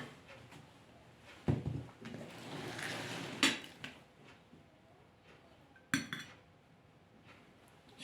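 Dishes and cutlery clink and knock as bulgur biryani is served from a cooking pot, with a few sharp metallic clanks standing out over soft scraping and handling noise, quiet and close, no speech.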